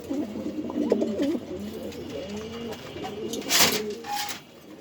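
Pigeons on a farm in Mirpur 13 coo in soft, low, repeated warbling calls close by, steady over several seconds, with a brief rustling burst near the end.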